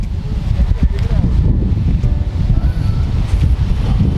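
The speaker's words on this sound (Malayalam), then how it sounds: "രണ്ടാമത്തെ വാട്ടർഫാളിലാണ് നമ്മളിപ്പോൾ നിൽക്കുന്നത്. വാട്ടർഫാളിൻ്റെ പേര് ഭരചുക്കി വാട്ടർഫാൾസ് എന്നാണ്." Bharachukki waterfall at Shivanasamudra roars as a steady, dense broadband rush that holds constant throughout, loud and close, with no clear voices above it.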